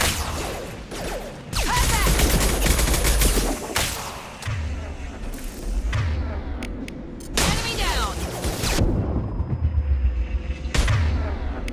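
Gunfire in the Mass Effect 2 video game comes as dense, loud bursts of shots and crashing impacts, surging and easing over a continuous combat rumble across the whole stretch.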